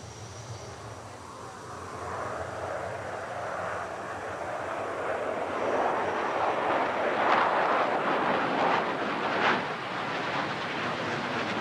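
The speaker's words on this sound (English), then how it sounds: "The Swifts fly a mixture of single and two-seater MiGs, generally in a group of six, with a seventh aircraft flying solo." MiG jet aircraft of a six-plus-one formation aerobatic team fly overhead, a broad roaring rumble that swells toward the middle and stays loud and continuous.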